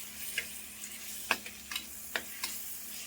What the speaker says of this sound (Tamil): உப்பு போட்டு கொஞ்சம் நல்லா வதக்கலாம்